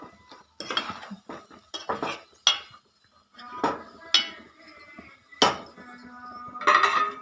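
A spoon scrapes and clinks against a cooking pot while cucumber, egg and drumstick curry is stirred, giving a series of close, irregular metallic knocks and scrapes with brief pauses and no talking.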